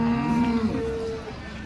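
A cow at the Baramati cattle market lets out a single drawn-out moo, close and fairly loud over a steady background murmur.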